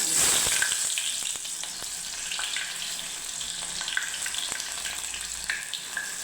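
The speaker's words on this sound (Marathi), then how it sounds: "तेल गरम झालेलं आहे आता सगळं आधी टाकते" Vegetables and spices dropped into hot oil for a spicy dry brinjal curry sizzle and crackle steadily, with sharp spits and pops scattered throughout, close and alone with no voices.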